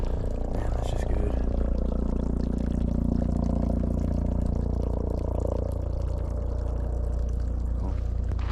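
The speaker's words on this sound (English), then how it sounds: "I did indeed actually just stop and fill up some more water." Water gurgles and pours into a bottle filled from a water source on a backpacking loop on Mount San Jacinto, a close, steady rushing fill with a rising pitch that eases off toward the end.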